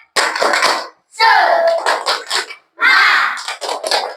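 A school class performs the tepuk semangat clapping chant, with bursts of group voices chanting in rhythm, punctuated by quick hand claps in three close, loud phrases separated by short pauses.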